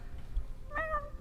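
A person's voice imitates a cat's meow, one short drawn-out tonal meow with a rising then falling pitch, fairly quiet in a studio-like room with no other talk during it.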